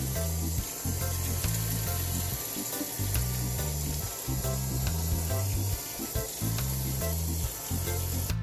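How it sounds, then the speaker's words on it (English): Oyster mushrooms fry in grapeseed oil with a steady, close, hissing sizzle that runs throughout, over a low rhythmic thumping underneath. "Then I'm going to fry them in this grapeseed oil."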